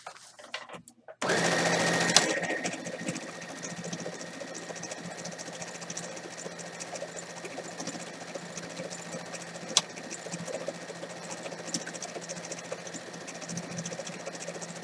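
A sewing machine runs steadily, stitching two pinned rows of a quilt together, its motor whirring loud and continuous after a brief start-up surge, with a single sharp click partway through.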